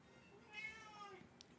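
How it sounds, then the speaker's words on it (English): A cat meows clearly in a single drawn-out, rising-and-falling call, close and alone against a faint background hiss. "Uh-oh. We got a cat."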